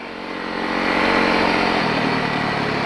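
A snow bike engine runs loud and close on snow, building over the first second into a steady droning motor roar that holds without a break.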